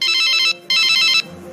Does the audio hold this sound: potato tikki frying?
no